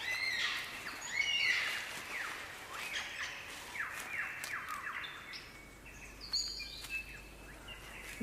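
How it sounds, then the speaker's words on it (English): Superb lyrebird of southern Australia singing an elaborate, varied song of rapid chirps, whistles and squawking phrases, bright and continuous against a steady background hiss of the forest. "this bird must be one of them. The superb lyrebird of southern Australia."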